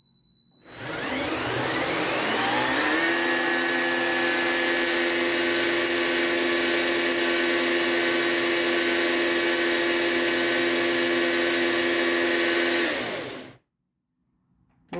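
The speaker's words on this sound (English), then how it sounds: "So let's turn on the dyno first." A motorized LEGO Technic McLaren P1 on a dyno spins up into a loud, steady high-pitched whine that rises in pitch over a couple of seconds, holds for about ten seconds, then cuts off abruptly.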